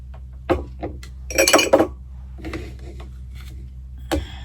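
Glass bottles clink and rattle against each other in a few short bursts, with one busier cluster of knocks in the middle, over a low steady hum.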